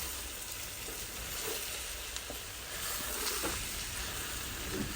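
Leafy greens (shak) sizzle softly in a pan while being stirred and fried, a faint steady hiss with occasional light scrapes and taps, no voices.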